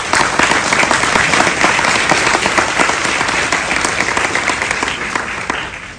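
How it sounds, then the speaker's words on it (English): An audience at a chapter honoree event claps in a sustained round of applause, dense and steady before gradually tapering off, with a faint crowd murmur underneath. "I think that we can give a round of applause."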